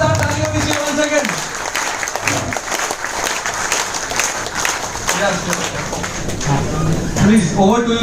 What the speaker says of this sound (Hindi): जोरदार तालियों की जीवन सेकंड